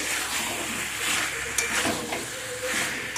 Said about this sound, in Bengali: মাংসটাকে ভালো করে কষিয়ে নিতে হবে।